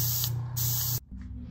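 Airbrush gun spraying with a steady, close hiss that stops abruptly, then a softer hiss resumes after a brief pause, with a low mechanical hum underneath throughout.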